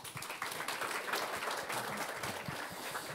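An audience at a corporate engineering job talk claps to welcome a presenter, a brief burst of continuous applause that is fairly quiet and sounds somewhat distant.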